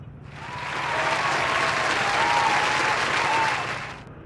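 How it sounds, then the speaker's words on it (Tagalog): Loud, dense applause swells up, holds for a few seconds, then fades away. "Palakpakan natin."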